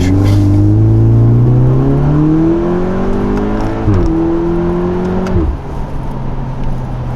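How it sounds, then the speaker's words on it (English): Volkswagen Golf R with a 7-speed DSG gearbox accelerating hard, a loud close engine note climbing in pitch, then two quick upshifts, each with a sharp drop in revs before pulling again, with no voices. "I'm going to show you how fast the gearbox is."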